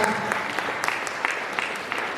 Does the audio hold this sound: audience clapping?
yes